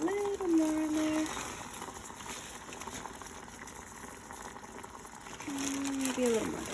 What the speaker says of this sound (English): Let it boil up.